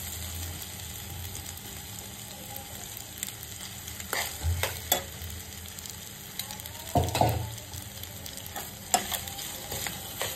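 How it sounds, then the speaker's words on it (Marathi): Boiled penne pasta tossed and stirred in a pan, with a soft continuous sizzle of frying underneath and a few louder scraping, clattering stirs bunched together partway through, no talking. "आणि ह्याच्यामध्ये ती जे बॉईल केलेले पास्ता होता तो टाकते."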